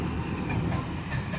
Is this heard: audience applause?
no